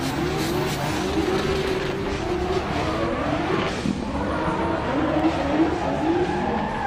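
A Renault RS13 drift car slides sideways around a track at a French Drift Championship event, its engine droning steadily with sustained tyre roar throughout, loud and continuous without a break.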